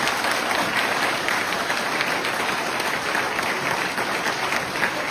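Gathered villagers of Sarnaghbyur in Armenia's Ani community clap together in a steady, dense round of applause that stays loud and even for about five seconds, with no voices over it.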